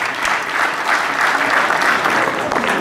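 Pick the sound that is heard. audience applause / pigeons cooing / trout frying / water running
audience applause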